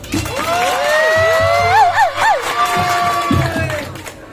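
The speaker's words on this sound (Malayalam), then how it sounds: "സിറിയക്ക് വേണ്ടി ഒരു നല്ല കൈയടി കൊടുത്തു" A crowd at a stage event with film actor Fahadh Faasil attending claps and cheers loudly, with whoops and shouts rising over sustained applause, and a few voices audible in the mix.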